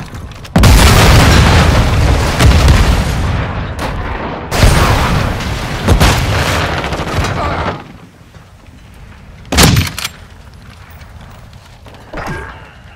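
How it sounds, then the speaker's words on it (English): A cruise missile strike in Call of Duty: Modern Warfare II lands as a series of heavy booming explosions, loud and close, with rumbling blasts in the first half, then quieter gaps broken by two sharper detonations. "Friendly cruise missile deployed."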